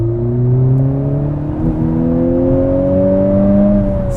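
A 2020 Honda Civic Type R accelerating at full throttle, its engine note climbing steadily in pitch as it pulls hard, heard loud and close from inside the cabin.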